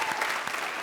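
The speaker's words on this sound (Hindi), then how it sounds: "तालियां।" Studio audience applause during a comedy show, a brief steady wash of clapping at moderate loudness with no talk.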